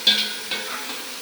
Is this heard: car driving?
no